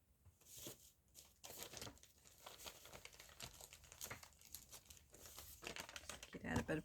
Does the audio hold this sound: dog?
no